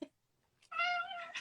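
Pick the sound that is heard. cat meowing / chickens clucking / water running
cat meowing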